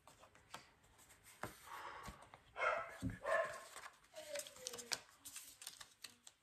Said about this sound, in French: Allez, le chien du voisin.